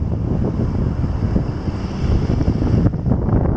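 Strong wind gusts buffet the microphone at the seaside during a fishing outing, with a steady roar of surf beneath, loud and continuous throughout.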